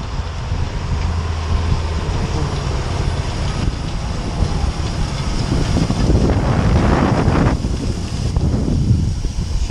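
An Ursus tractor rolling a field, heard as a steady loud engine drone and rumble buried under heavy wind buffeting the microphone.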